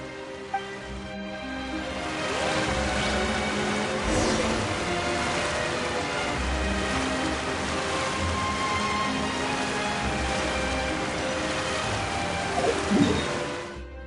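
Steady rain falling in a video game, a dense even hiss of drops with faint low rumbles, close and continuous throughout.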